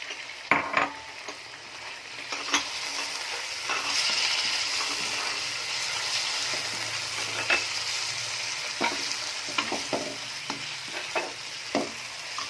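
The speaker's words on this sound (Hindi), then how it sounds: "चिकन को हम अच्छी तरह से भून लेंगे।" Boneless chicken fries in a pan, giving a continuous close sizzle, while a utensil stirs it with repeated scraping and clinking strokes against the metal.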